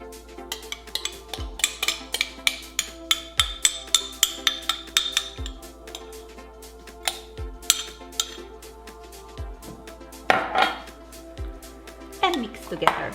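Mozzarella cheese and pizza sauce stirred together in a dish for keto spaghetti squash pizza, giving repeated light clinks and scrapes of a utensil against the dish, close and fairly quiet with background music underneath.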